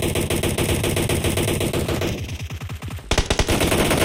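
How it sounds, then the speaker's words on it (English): Sustained rapid automatic gunfire in PUBG Mobile, loud and relentless, briefly thinning before a fresh heavy burst of shooting resumes. "They're just firing wildly into the smoke now."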